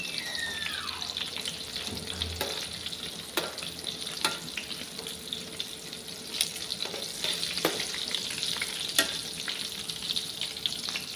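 Eggplant slices frying in a pan, a loud, continuous crackling sizzle close by, punctuated by a few sharp clicks and knocks.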